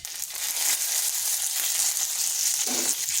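Cumin, black mustard seeds and curry leaves sizzle and crackle in hot oil, a busy, continuous frying hiss heard up close with no talking.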